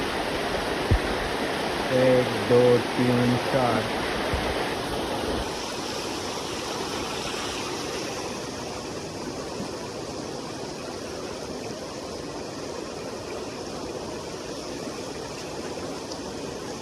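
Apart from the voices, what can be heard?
flood water waves rushing along a road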